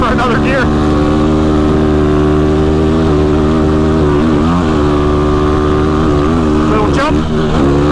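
Yamaha YFZ quad engine revving loud and steady while riding in fifth gear, with harmonic tones that dip and climb through small throttle changes and a brief surge near the end.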